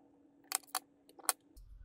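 A blade cuts through the rubber pad of a Spacemouse over the hidden screw pockets, making a few crisp, close snipping clicks in quick succession over a faint steady hum, with no talking.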